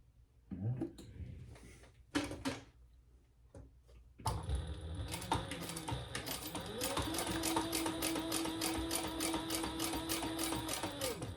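A sewing machine starts after a few taps and handling clicks, then runs continuously in a fast, even rhythm, going back over earlier stitches on a wallet strap. Close and clear, with no talk.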